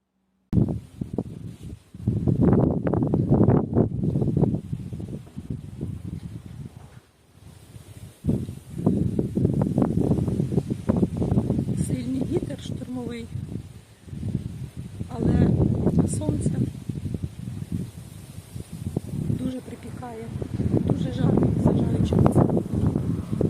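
Wind buffets the microphone outdoors while someone walks along a street, gusting in loud, uneven rushes over about twenty seconds, with brief lulls between gusts.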